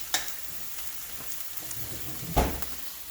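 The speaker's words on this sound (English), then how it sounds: "This is probably what I needed to do to sear it" Cubed chicken searing in a hot pan gives a steady close sizzle and crackle, with two sharper bursts of hissing, one at the start and a louder one later.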